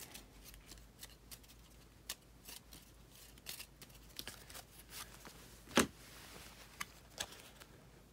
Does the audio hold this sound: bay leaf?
no